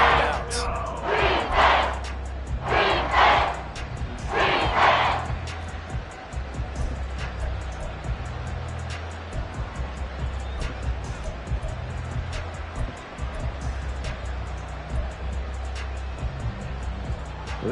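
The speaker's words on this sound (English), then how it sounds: "This crowd turning up the decibel level." A football stadium crowd roaring during a 3rd-and-long play, the noise swelling in loud surging bursts before settling into a steady rumbling roar with faint voices mixed in.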